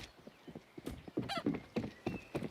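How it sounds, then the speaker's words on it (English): Chickens in the Counter-Strike video game cluck and squawk in a quick, irregular series of soft calls, with light footstep-like taps and faint game ambience underneath. "And chickens."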